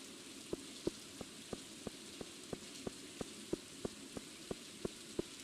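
Soft, steady rain hisses in Stardew Valley while footsteps tap in an even, quick rhythm over it, each step a faint, crisp click, the whole scene quiet and calm.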